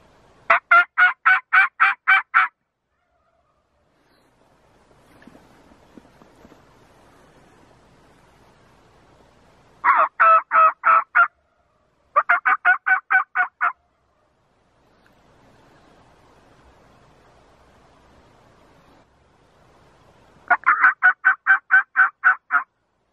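A wild turkey gobbles in loud, rapid rattling bursts during a spring turkey hunt in Idaho, calling four times with quiet outdoor gaps between the calls.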